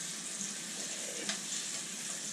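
Food searing in a frying pan gives a steady, even hiss of sizzling fat throughout, fairly quiet and close, with no talk.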